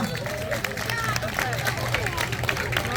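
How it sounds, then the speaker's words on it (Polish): An outdoor picnic crowd applauds the youngest folk dance group, a dense, steady clapping mixed with crowd babble and a low hum. "Wielkie brawa!"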